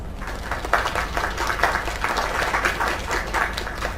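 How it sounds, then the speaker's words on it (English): An audience breaking into a round of applause, a dense, steady wash of many hands clapping at moderate distance, holding evenly for several seconds. "Another round of applause."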